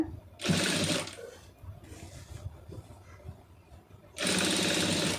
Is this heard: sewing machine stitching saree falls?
yes